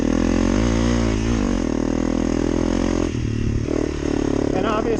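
2023 Honda CRF300L Rally (non-ABS) dual-sport motorcycle, 286 cc single, riding up a trail, its engine droning loud and close with shifting revs, and a voice talking over it.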